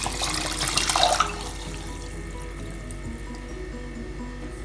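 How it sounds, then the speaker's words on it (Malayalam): Two cups of coconut milk poured into a pot of chama rice payasam, a brief liquid splash and trickle in the first second or so, then quiet kitchen background. "ഞാനിതിലേക്ക് 2 കപ്പ് തേങ്ങാപ്പാലാണ് ചേർക്കുന്നത്."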